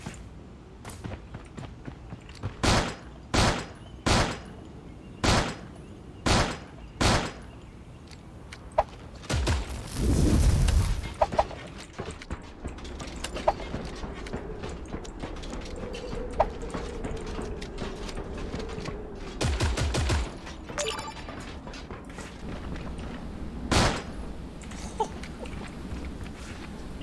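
In the video game Creative Destruction, gunfire comes as a run of evenly spaced loud single shots, then a roaring burst, followed by scattered cracks and thumps over a low background rumble.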